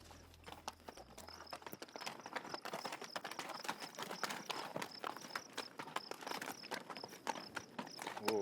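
Horses walking across high desert ground, a steady stream of overlapping hoof clip-clops at close range with faint jingling of tack, and no voices.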